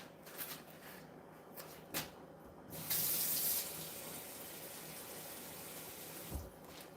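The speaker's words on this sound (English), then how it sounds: "I'm going to put a little bit of water in there" Water runs from a kitchen tap into a pan holding a sausage, a brief bright splashing stream after a few soft clinks, then quiet room sounds.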